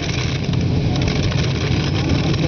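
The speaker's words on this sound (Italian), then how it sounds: "Motore riavviato, si riparte." Pulling tractor engine at an Italian tractor pulling event in Thiene, a loud, steady, rough idle drone dominating the recording, with a voice faintly present beneath.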